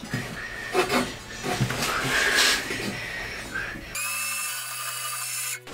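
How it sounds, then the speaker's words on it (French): Power tool cutting a length of steel T-bar in a workshop, a harsh grinding whine with uneven bursts that then gives way to a steadier high-pitched mechanical tone, fairly close and loud. "On va couper notre longueur de T qui va venir au milieu."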